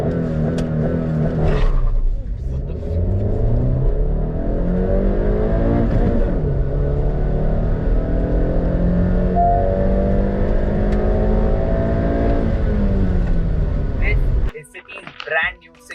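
A Honda City 1.5 petrol sedan with a six-speed manual gearbox accelerates hard. The engine revs climb in pitch, dip at each gear change, then climb again, loud and close, before cutting off near the end.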